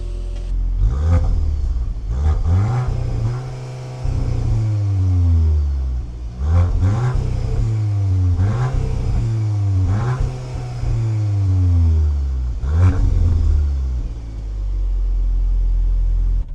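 A 2025 Audi S3 accelerates hard on a test drive. Close, loud engine revs climb through several gears, each with a rising pitch and then a drop at the shift, repeating in pulses.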